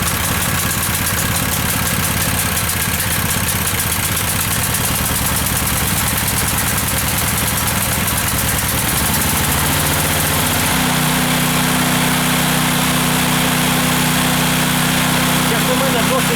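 A Heron 3.5 kW single-phase petrol inverter generator running nearby with a steady engine drone that shifts to a smoother, settled idle partway through, while people talk over it.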